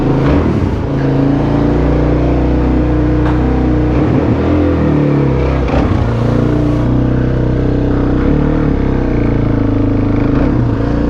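A supermoto motorcycle engine holds a loud, steady high idle on a cold day, its drone and rumble dominating up close, with a few small swells in revs and no talk.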